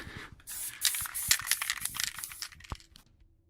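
Short bursts of aerosol spray paint hiss close by onto MDF terrain pieces, interrupted by a few sharp clicks and rattles, tapering off into quiet near the end.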